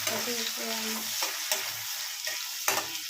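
Food cooking in a pan, a steady close sizzle with occasional stirring scrapes and clicks and a low humming tone underneath, no talking.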